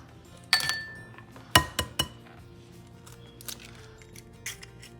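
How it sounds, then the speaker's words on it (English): Two eggs cracked against a glass bowl and dropped into sugar cookie butter mixture, a few sharp clinks and taps followed by quieter scattered clatter, close up. "now we're gonna add in our 2 eggs"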